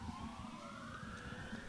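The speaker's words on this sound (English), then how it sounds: "Did you notice when the siren started that Robbie went and hid?" At an outdoor Hervey Bay bowls tournament, a distant siren wails in a faint, slowly rising tone that carries steadily over low background rumble.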